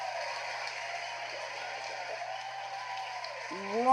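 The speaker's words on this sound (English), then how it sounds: "From the crowd cheers here, Falcon 9 has touched down for the third time." Crowd cheering and applause for a Falcon 9 rocket booster landing, heard as a steady wash of clapping and distant cheers, followed by a brief rising tone at the end.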